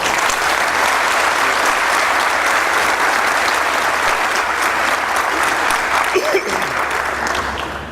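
An audience at a literature festival talk on cricket breaks into steady, sustained applause, a dense wash of clapping from many hands that holds evenly throughout.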